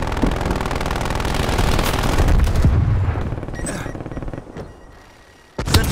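Sentry turret gunfire in Call of Duty Black Ops Cold War, a loud sustained burst of rapid machine-gun fire with booming impacts that thins out toward the end, briefly drops to near quiet, then a sharp shot returns.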